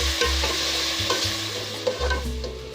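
Beaten yogurt is stirred into sizzling cumin in a cooking pot, with close, steady frying hiss and repeated scraping strokes of a spoon against the pot.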